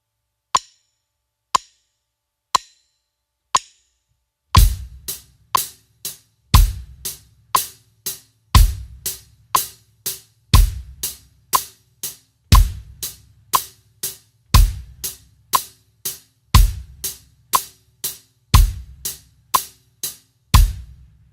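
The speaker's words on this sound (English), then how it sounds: "just hit the bass drum right in time with the hi-hat" Drum kit groove for a first drum lesson: four lone sharp hi-hat ticks counting in, then a steady pattern of crisp hi-hat strokes with deep bass drum thumps landing on counts 1 and 3, close and loud with no talking.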